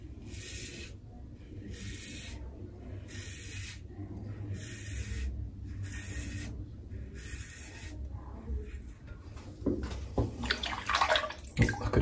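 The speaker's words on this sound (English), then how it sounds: "I don't know why I rinsed that off straight away." Tap water rinses a Gillette Super Thin razor in short bursts of hissing spray, about six regular pulses, then messier splashing and clatter near the end.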